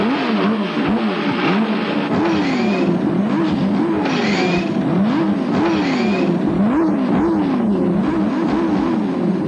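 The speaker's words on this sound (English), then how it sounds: "Gentlemen, start your engines." Several 1993 CART IndyCar race engines fire up and rev on the starting grid at the Belle Isle street circuit in Detroit, a loud continuous roar with repeated rising and falling revs and overlapping cars, with no talk over it.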